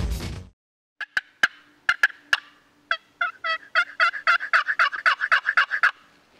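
Wild turkey gobbling: a burst of noise at the start, then a run of sharp gobbles that speed into a rapid rattling sequence, clear and fairly close.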